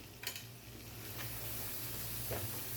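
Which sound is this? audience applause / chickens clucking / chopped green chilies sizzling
chopped green chilies sizzling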